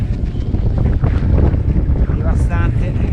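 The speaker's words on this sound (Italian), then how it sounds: "Il vento si è nuovamente alzato, si pedala a" Strong wind buffets a microphone while cycling through the Gobi Desert in winter, a loud, steady roaring rumble with gusty surges and no pause.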